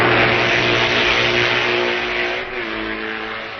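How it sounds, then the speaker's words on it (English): An MV racing motorcycle at the 1965 Isle of Man TT, its engine sounding peculiar, roars loud and close at high revs, holding a sustained buzzing note before easing slightly toward the end. "Halewood's MV sounds most peculiar"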